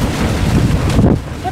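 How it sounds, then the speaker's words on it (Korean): Strong typhoon wind buffets the microphone at a coastal campsite on Chuja Island near Jeju, a loud rushing roar that swells and then drops off. "이거 바람소리 뒤석뒤석 하는 거 봐, 위에가"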